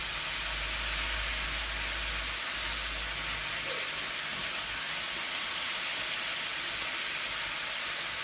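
Washed mushrooms cooking under a lid in a covered pan, a soft continuous steamy hiss and gentle sizzle, faint and steady with a low rumble early on and no talking.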